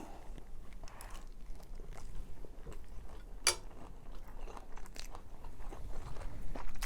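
Crunchy food being bitten and chewed during a Thai home meal with chili and vegetables, a series of close, irregular crunches over a low background with one sharp bite near the middle.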